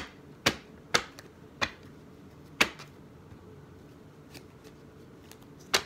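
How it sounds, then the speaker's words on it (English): Sharp, crisp riffling bursts from a deck of cards, several separate shuffles with quiet pauses between them, close by. "double shuffling because I didn't shuffle this deck when I got done."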